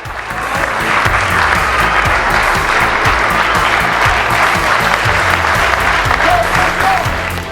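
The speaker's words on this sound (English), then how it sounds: "the crowd erupted into applause, paying tribute and celebrating Dylan Tombides' life" Soccer crowd at a Perth SC match applauding in tribute to Dylan Tombides, a dense, sustained wash of clapping across the whole stadium, loud and steady throughout with low rhythmic thumps underneath.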